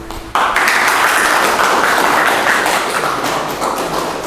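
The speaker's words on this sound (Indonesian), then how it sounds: "Terima kasih presentasi dari kelompok 1, kita beri tepuk tangan." Group of students clapping for a classmates' group presentation in an Islamic religious education class, a dense burst of applause starting abruptly and filling the room, loud and steady before slowly tapering off.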